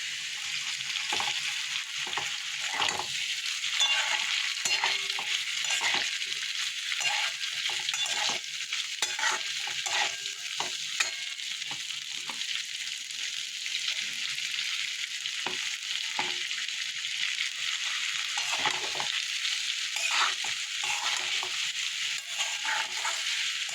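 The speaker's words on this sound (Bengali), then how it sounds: "দেখো আলু পেঁয়াজটা ভাজা ভাজা হয়ে গেছে আলু নরম হয়ে গেছে এবার এই পাস্তাগুলো" Potatoes and onions frying in a pan with pasta added, a steady close sizzle broken by frequent scraping and stirring strokes of a spoon throughout, no talking.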